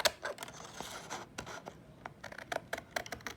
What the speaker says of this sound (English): Find a line and cut it straight up,